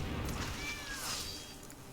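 A cat meows from the Kitty Cat card in MTG Arena, a few thin rising-and-falling tones over a steady game background hum, fairly faint and with no talking.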